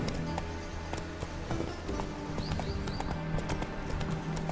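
Hooves of the horse Roach galloping in The Witcher 3: Wild Hunt, a quick, steady clip-clop rhythm of repeated thuds, close and moderately quiet, with no talk over it.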